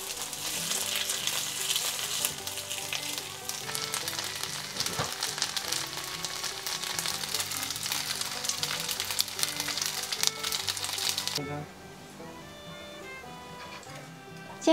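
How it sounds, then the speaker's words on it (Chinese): Pieces of yam cake, a taro cake with dried seafood and cured pork, pan-frying in a generous layer of oil until golden underneath, with a steady close sizzle and crackle that continues throughout and drops somewhat quieter near the end. "我们就放在锅里面煎到底面焦黄色。"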